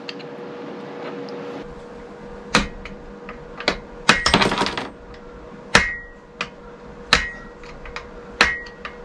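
Sharp metallic hammer blows strike an old screwdriver with its tip worn off, used as a drift on an engine part for a DT3 build; about eight separate close, loud impacts come at irregular intervals, with a quick cluster near the middle.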